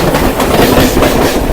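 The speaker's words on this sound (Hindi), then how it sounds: "धक करती हुई चलती हुई, वाकई मुंबई की जान है लोकल ट्रेन" A Mumbai local train runs over the rails, loud and close, its wheels beating a quick, rhythmic clickety-clack in a steady rumble.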